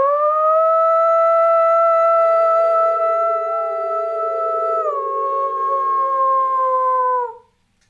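A man imitates a wolf howl, a single long sustained wavering tone held for about seven seconds, loud and close, sliding down near the end before cutting off abruptly.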